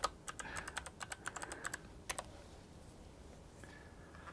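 Rapid keystrokes clatter on a computer keyboard in a quick burst of clicks, then a pause and a couple more taps, close and fairly quiet.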